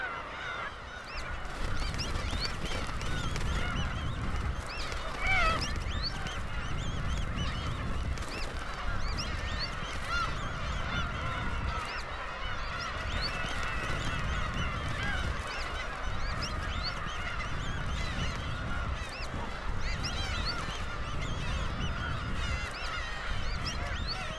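Black-tailed gulls clamor at a breeding colony on Hongdo island while chicks are being mobbed, countless honking, mewing cries overlapping loudly and continuously from nearby birds, with no talk.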